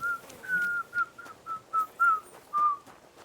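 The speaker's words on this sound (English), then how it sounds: "I'm not very good at whistling." A person whistles a short tune in a medieval role-playing game, a series of about eight clear, steady notes with brief gaps between them, close and fairly quiet over a faint background hum.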